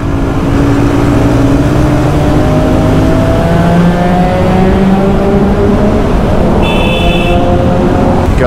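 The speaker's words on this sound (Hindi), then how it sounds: "ये है वो एग्जॉस्ट बैरल एटम" A Royal Enfield Continental GT 650 fitted with a Barrel Atom exhaust revs hard close by, its engine note rising and falling in loud, continuous sweeps.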